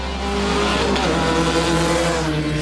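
A race car roars through a quarter-mile sprint along a boulevard at the Geelong Revival, a loud sustained engine drone rising in pitch as it accelerates, close and dominant with no talking.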